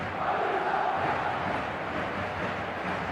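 Stadium crowd in eFootball 2025 at an evening match, a dense, continuous roar of fans singing from the stands, steady and loud throughout with no clear individual voices.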